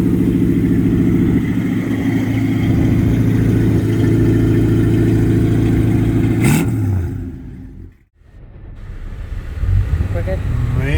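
A 1946 Chevrolet Business Coupe, completely redone with an upgraded motor, runs steadily at a loud, close rumble from the rear, then briefly dips and swells as the engine is revved.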